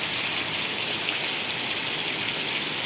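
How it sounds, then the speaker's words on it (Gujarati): Torrential wind-driven rain pours down steadily during a lightning storm in Vejalka village of Botad district, a constant loud roaring hiss with no pauses and no voices. "અતિ ભયાનક વરસાદ આવે રહે, પવન પણ સાથે નીકળ્યો છે"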